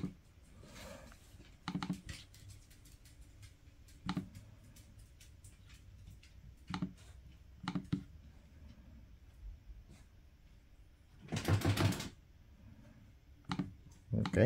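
Computer mouse clicks sound while WireGuard is set up on a Raspberry Pi VPN server, a scattering of sharp close clicks with some louder bursts of handling noise, and a voice speaks at times.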